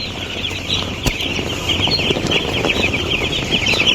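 Dense, continuous high-pitched peeping from a flock of broiler chicken chicks, steady and close throughout with a few louder bumps and no talk.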